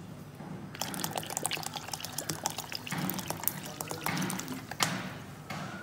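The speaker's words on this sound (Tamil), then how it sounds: "ஸோ கொஞ்சம் தண்ணி ஊற்றிக்கலாம்." Water splashes and pours steadily into a pressure cooker for banana stem soup for several seconds, with drips and small clinks, close and fairly quiet.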